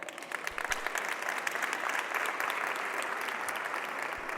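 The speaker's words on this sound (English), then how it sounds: "please, welcome on stage with a loud applause" Conference audience applause welcomes a presenter onto the stage, a steady crowd of hands clapping at a middling distance, holding evenly for a few seconds.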